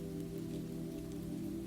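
Steady rain falls in a soft, even hiss under a low, constant hum, faint and unbroken throughout.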